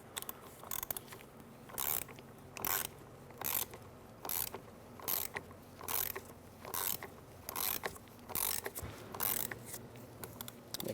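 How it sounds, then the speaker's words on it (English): Ratchet wrench tightening the mounting nut on a power steering pump of a 2003-2009 Dodge Ram 2500, a steady series of bright, evenly spaced clicking strokes up close with brief pauses, no talk. "we're going to tighten the floating washer here, this mounting nut that goes down, and we're going to hold the bolt"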